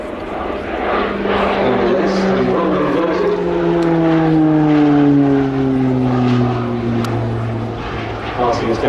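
A propeller display aircraft passes along the airfield at an air show, engine drone sliding steadily downward in pitch as it goes by, loud and near, with commentary running over it.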